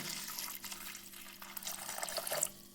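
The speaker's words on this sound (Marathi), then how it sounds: "आता त्यात मी टाकणार आहे पाणी" Water splashes and trickles steadily into a wok, with a faint hum underneath and a few brief bright clinks near the end.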